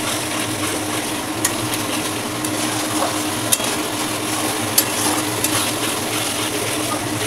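Mutton and spices being stir-fried in a pan with yoghurt over low gas, giving a steady close sizzle with soft scraping and occasional sharp spoon clinks against the metal.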